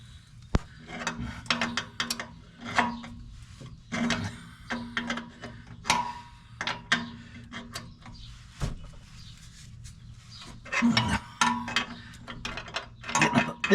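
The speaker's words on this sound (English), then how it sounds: "It's a 22 millimeter wrench." A 22 mm wrench works an O2 sensor into a car exhaust, giving repeated close metallic ratcheting clicks and scraping turns in irregular bursts with brief pauses.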